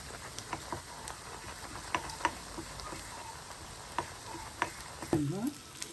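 Ground spices stir in oil for a chicken pickle, giving a faint, quiet crackle with scattered soft spoon taps and a brief louder stir near the end.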